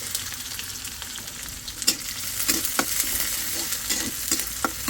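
Garlic and dried chilli fry in a pan with a steady close sizzle, and sharp clicks of stirring break through it now and then, with no talk over it.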